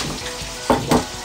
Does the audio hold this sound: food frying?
yes